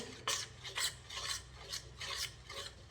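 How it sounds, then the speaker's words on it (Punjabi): Gram flour (besan) being mixed in a pan for besan barfi, before the gas is lit: a steady run of rhythmic scraping and rasping strokes, close and fairly quiet, with no talking. "ਇਹਨੂੰ ਚੰਗੀ ਤਰ੍ਹਾਂ ਆਪਾਂ ਮਿਕਸ ਕਰ ਲਾਂਗੇ"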